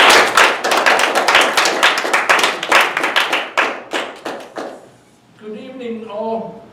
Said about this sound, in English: Please give a warm round of applause as I introduce our president, Charles Bombalier, to the lectern.